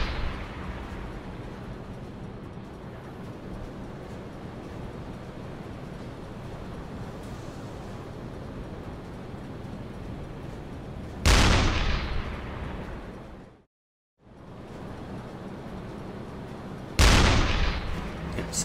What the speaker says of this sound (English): So we'll just pop him down with the 88. We'll just move in and keep firing at it.